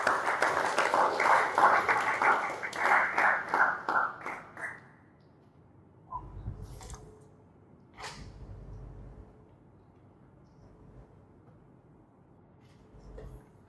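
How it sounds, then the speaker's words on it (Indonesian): An audience at a broadcasting and film training session bursts into dense clapping for several seconds, then the applause tapers off into quiet room tone with a few faint knocks and movements. "Tepuk tangan untuk kita yang hebat"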